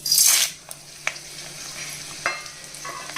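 Broken dried red chillies and chana dal dropped into hot oil for a Telugu tempering give a loud hissing burst up front, then settle into faint crackles and a few sharp spoon clinks against the pan.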